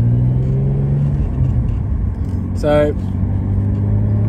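Interior road noise from a Ford BA/BF Falcon with a T5 manual gearbox: a steady low engine drone and tyre rumble throughout, with a short voice and a brief whine-like burst partway through.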